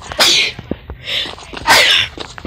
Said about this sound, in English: No, I sneeze.